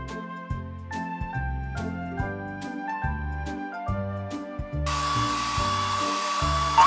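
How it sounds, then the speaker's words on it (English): A hair dryer effect in the PAW Patrol: A Day in Adventure Bay children's game gives a steady, fairly loud whooshing blow that starts partway through and runs to the end over bright, bouncy game music. "The hair dryer."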